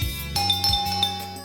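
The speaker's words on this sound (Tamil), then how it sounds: "முதல்ல இந்த காலிங் பெல்ல கழட்டி எறியணும்." A home calling bell rings with a bright electronic chime that repeats in short tones over a low background hum and other household sound.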